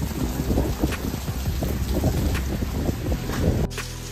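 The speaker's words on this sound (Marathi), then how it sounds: "तर मस्तपैकी पाऊस सुरू झालाय।" Rain begins falling at a farmhouse in Kolad, a steady broadband hiss mixed with gusts of wind buffeting the microphone, which cuts off abruptly near the end.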